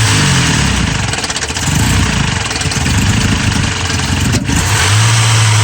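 A Mazda B2600i pickup engine bogs down close and loud, its revs sagging and stumbling with a rough, uneven note before picking back up.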